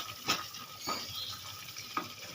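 Bombay duck fish being stirred and fried in a pan with garam masala powder: a soft, steady sizzle with a few scraping strokes of the spoon at irregular intervals, close and moderately quiet.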